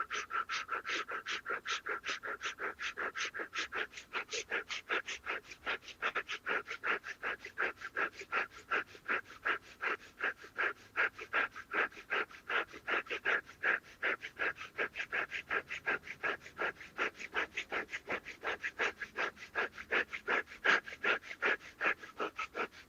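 Strong, rapid rhythmic breathing during a breathing exercise, with dozens of quick, evenly paced forceful breaths repeating steadily for over twenty seconds, close and loud with no talking.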